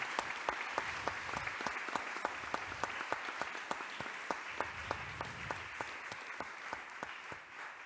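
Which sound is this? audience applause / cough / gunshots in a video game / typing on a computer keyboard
audience applause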